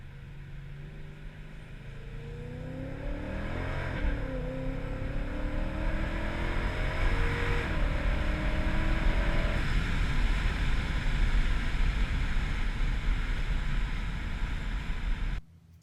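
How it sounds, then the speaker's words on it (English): A 2015 Ford Mustang GT V8's exhaust, with full MagnaFlow system and stainless long-tube headers, rumbles deeply and rises in pitch as it revs, with steady wind and road roar around it. "Windows down so you can hear the exhaust."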